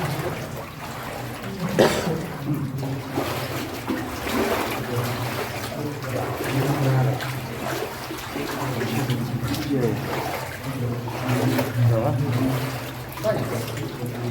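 Water swirls and splashes as someone wades thigh-deep through a flooded mine adit at Wojcieszyce, an irregular sloshing that carries on throughout under frequent nearby talk.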